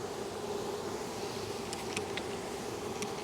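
A honeybee swarm buzzes steadily nearby during a swarm catch, a soft continuous hum with a few sharper passes of individual bees close to the microphone and no talking.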